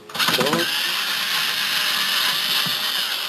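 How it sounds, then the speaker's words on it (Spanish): Screws being removed from the power supply of a PlayStation 3 40GB/60GB console, heard as a close, loud ratcheting mechanical whirr that starts with rapid clicks and then holds steady for a few seconds. "Vamos a desconectar el cable de alimentación y quitaríamos los tornillos"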